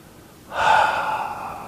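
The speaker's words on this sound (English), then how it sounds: "Breathing in. Breathing out." A deep, steady breath during a seated tai chi exercise, starting around half a second in and sustained as a soft breathy rush close to the listener, alone without talk.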